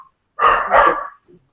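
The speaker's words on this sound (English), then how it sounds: "Sorry about the dogs." A dog lets out one short, close bark burst, sharp and loud, then a faint small whimper follows in an otherwise quiet room.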